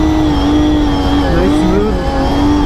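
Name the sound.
drift car engine revving during a drifting battle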